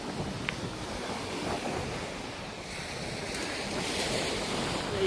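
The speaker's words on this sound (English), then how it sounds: "Sound of those waves." Ocean waves wash steadily onto a private beach, mixed with gusty wind buffeting the microphone, a continuous surf roar with no talking.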